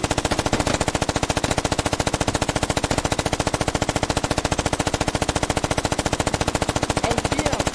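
A video game machine gun fires a long, sustained stream of evenly spaced rapid shots, loud and close, with no pauses across the whole stretch.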